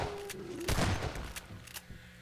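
Gunfire in the video game Half-Life 2 Episode Two, a burst of loud shots with a sharp crack near the start followed by scattered fainter reports, set against game ambience with a tonal hum.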